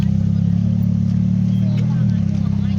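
A Ferrari F430 at a car meet outside a country inn: a loud, close, smooth engine drone, held steady and then easing off slightly near the end, with a voice talking over it.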